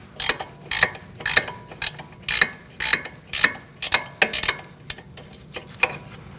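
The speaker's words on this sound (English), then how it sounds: "You can switch to a ratchet wrench at this point." Ratchet wrench loosening the nut on a car's front lower control arm, a series of sharp, close clicking bursts in an uneven rhythm, about a dozen quick ratcheting strokes with no talk.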